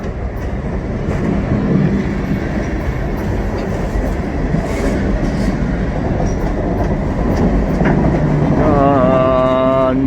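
A freight train rolls along, heard while riding a boxcar: a loud, steady rumble and rattle of wheels on track, with squealing wheel tones rising near the end.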